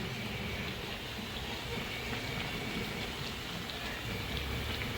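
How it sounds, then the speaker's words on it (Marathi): Heavy monsoon rain falls outside during Shravan as a steady, even hiss that continues without a break, fairly soft and with no voices over it. "बाहेर जाम पाऊस आहे"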